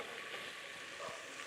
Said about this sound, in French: on est en train de faire fondre le beurre